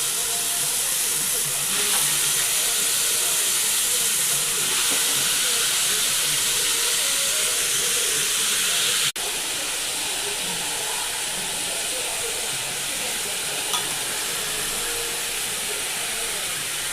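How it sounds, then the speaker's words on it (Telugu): Taro roots with turmeric go into a hot pan and sizzle hard and loud in a continuous, dense hiss. The sizzle eases slightly partway through, with no talking. "ఇప్పుడైతే నేను సొత్తు దుంపలను అయితే అందులో వేసేస్తున్నానండి."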